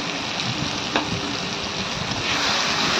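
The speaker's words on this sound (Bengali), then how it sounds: "তারপরে মশলাটাকে ভালো করে কষিয়ে নেবো, নেড়ে চেড়ে নেব।" Chili and turmeric powder sizzle steadily in hot oil for a prawn and banana-flower curry, a close, continuous frying hiss with a faint stir partway through.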